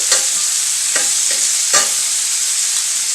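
Shrimp sizzling in a very hot skillet, a steady broadband frying hiss with a few sharp crackles and spatters standing out near the start, middle and around the two-second mark; no talking.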